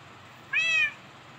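One clear, high cat meow from Minecraft Pocket Edition, short and tonal, standing alone over a faint steady background hiss.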